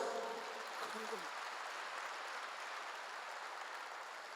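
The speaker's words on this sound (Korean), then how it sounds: "박수 하나 더 주세요" A church congregation applauds, a broad, even wash of many clapping hands heard from a distance and sustained throughout.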